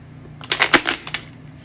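Tarot cards being shuffled by hand, a quick run of crisp papery riffles and slaps lasting about a second over a quiet room.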